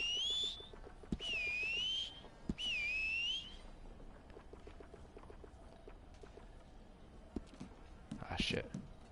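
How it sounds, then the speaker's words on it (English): A character in Red Dead Online whistling: three short high-pitched whistles with a slight rise and fall, separated by pauses, over faint background game ambience and footsteps. "He's real good at whistling"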